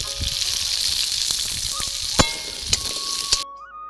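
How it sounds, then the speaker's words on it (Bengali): Potatoes fry in hot oil, which was used before for prawns and pointed gourd, with a steady bright sizzle, a few sharp clinks of a utensil, and the frying cutting off abruptly near the end. "ওই তেলে আলুগুলো ভেজে নেব।"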